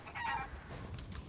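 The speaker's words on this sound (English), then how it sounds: "Oh, a chicken." A chicken clucks briefly in Resident Evil Village, a short, faint burst of clucks over low ambient rumble.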